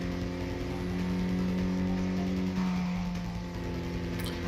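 Toyota Trueno AE86 engine in the Tokyo Xtreme Racer driving game, heard from the bonnet view, holding a steady loud high-revving drone with a brief shift dip partway through, close and continuous with no talk over it.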